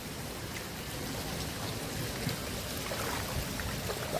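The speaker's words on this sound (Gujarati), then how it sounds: "તો આવો માહોલ છે અમારી આજ વરસાદ અમદાવાદનો" Steady rain falls in Ahmedabad, a constant soft hiss of drops on surfaces with faint trickling water, evenly spread and moderately quiet, no voices.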